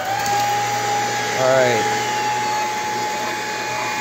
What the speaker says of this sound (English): I am going to actually vacuum this back up and turn on the brush roll to clean out anything.